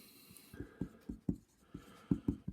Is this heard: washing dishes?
no